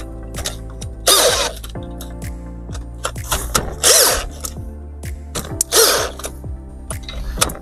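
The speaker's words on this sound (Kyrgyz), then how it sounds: "Азыр мен ушу 4 кичинекей болт менен баланс кылып тартып кетип атам" Four small bolts are tightened in turn, a fast ratcheting click train running throughout with bursts of louder, brighter tool noise at intervals, close and unaccompanied by talk.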